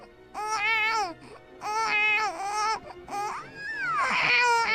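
A pop singer imitates a newborn baby crying, producing wavering, wailing cries in several bursts with brief pauses, close and loud, with no other sounds.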